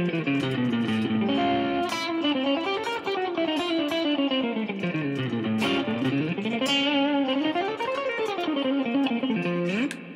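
A distorted electric guitar plays a flowing melodic minor scale line that bends and slides up and down, sustained notes with a jazzy feel and no voices.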